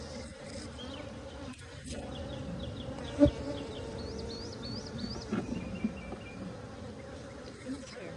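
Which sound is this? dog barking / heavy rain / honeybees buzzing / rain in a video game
honeybees buzzing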